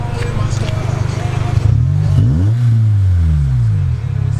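A car engine with a muffler delete idles with a loud, raspy burble, then blips into a couple of sharp revs that rise and fall, harsh and unmuffled, close by.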